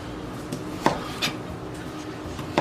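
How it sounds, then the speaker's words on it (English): Knife chopping smoked sausage on a cutting board, a few sparse, moderately loud chops spaced irregularly, with no talking. "now we cut up our smoked sausage"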